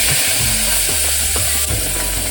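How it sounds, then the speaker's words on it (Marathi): Hot milk poured slowly into roasted semolina in a pan on a low gas flame, giving a steady loud hiss and sizzle throughout with soft clinks and stirring scrapes now and then. "तर आता मी एकदम हळूहळू, एकदम गॅस पण स्लो ठेवलाय आणि हे गरम दूध ते आता हळूहळू ह्यामध्ये टाकणार आहे"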